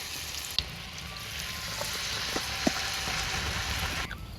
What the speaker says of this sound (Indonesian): Dadar jagung digoreng